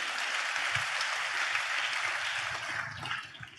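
A church congregation claps hands together in praise during a Christian sermon, a continuous wash of many hands at moderate volume that thins slightly toward the end.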